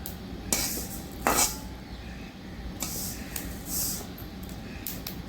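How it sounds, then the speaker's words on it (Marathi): Sesame seeds roasting in a kadhai give a soft continuous crackle and hiss, broken by a few sharp metallic scrapes and clinks of a spoon against the pan. "तर बघा तडतडाचा आवाज येऊ लागला आहे तर अशा प्रकारे तीळ भाजून घ्यायचे आहेत"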